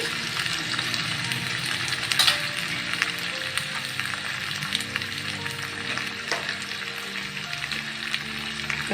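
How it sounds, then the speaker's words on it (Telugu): Tomatoes fry in oil in a pan for a coriander-tomato chutney, giving a continuous soft sizzle with occasional spatula clinks and a brief louder scrape, close by and with no talking. "ఇప్పుడు టమాటాలు వేసుకుందాం టమాటాలు బాగా దగ్గరగా అయిపోవాలి"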